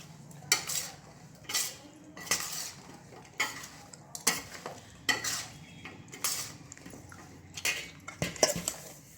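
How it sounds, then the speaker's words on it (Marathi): A spoon stirs raw green mango pickle pieces coated in spice masala with asafoetida in a metal bowl, making repeated close scraping clinks in an uneven rhythm, no speech. "आपण सगळ्या फोडी आपण व्यवस्थित मिक्स करून घेऊ."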